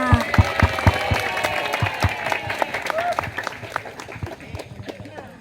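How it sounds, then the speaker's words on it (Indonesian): An audience at a stunting-prevention awareness event gives a round of applause, a steady mass of clapping that slowly fades, with voices talking over it. "Tepuk tangan untuk kita semua."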